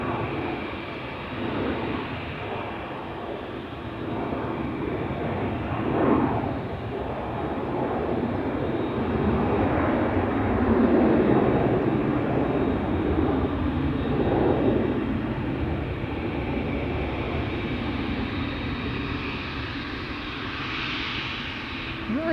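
A KLM Airbus A321 bound for Madrid takes off at Schiphol's Polderbaan, its engines roaring steadily and loudly for the whole stretch, swelling a little midway with a rising whine near the end.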